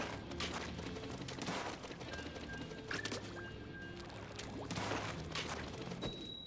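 Rapid-fire ink weapon shots in a Splatoon 3 Turf War match, a quick run of sharp bursts over game music and ambience, fairly faint and not very distinct.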